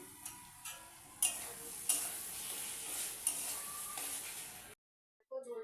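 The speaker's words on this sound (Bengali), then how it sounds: "এখন আমি এতে বেগুনগুলো দিয়ে একটু কষিয়ে নেব" Eggplant pieces fry in spiced oil in a pan for a Bengali tilapia, eggplant and potato curry, with a spoon stirring and tapping the pan in several clear strokes before the sound cuts off near the end.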